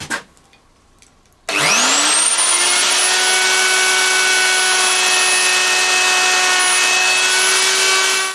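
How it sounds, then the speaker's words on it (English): A router trims a mahogany guitar body for a restored Fender Telecaster along a template: after brief quiet, the motor spins up sharply into a loud, steady high-pitched whine with cutting noise that holds to the end. "we're going to go around and use the router to trim it to match"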